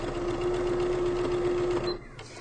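A sewing machine stitches a pillowcase in one steady, loud whir lasting nearly two seconds, then stops abruptly, leaving a quieter room.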